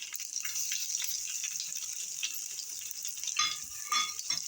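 Crushed garlic cloves sizzle in hot oil with mustard seeds and dried red chillies during tempering for kollu rasam, a steady hiss throughout with a couple of brief louder crackles near the end.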